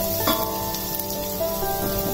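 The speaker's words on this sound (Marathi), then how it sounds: "हे थोडस परतून घेऊया" Asafoetida frying in hot oil with garlic in a pan, a steady close hiss and sizzle that holds evenly throughout, with no voices.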